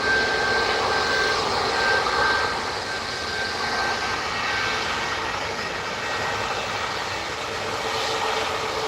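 A Boeing Dreamliner airliner passes through fog at Manchester Airport, a broad, steady jet roar that swells slightly and then eases at moderate distance, with no one talking.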